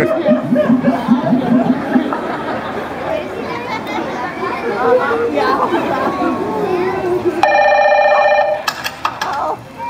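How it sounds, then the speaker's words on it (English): A telephone rings in a steady electronic trill near the end of a sea lion show at Sea World, following crowd chatter, children's voices and laughter. "You've reached Santa, but I can't get to the phone."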